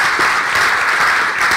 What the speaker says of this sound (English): One applause for him.